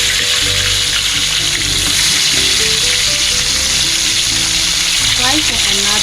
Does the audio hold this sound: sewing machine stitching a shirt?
no